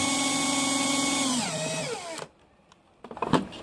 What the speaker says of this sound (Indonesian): Kemampuan bor ini RPM-nya. Jadi ini bisa kita putar lebih tinggi lagi